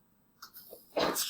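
A single short sneeze bursts out after a brief inhale, close and fairly quiet, in an otherwise calm room.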